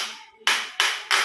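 Three sharp, bright taps on a homemade drum made from a balloon stretched over a water bottle cap, evenly spaced, each with a quick papery decay, heard close up with no talking.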